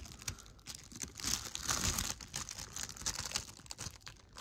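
A sticker is picked and peeled from a plastic 4K Blu-ray case in close, faint, irregular crinkles and small tearing scratches that run continuously without speech.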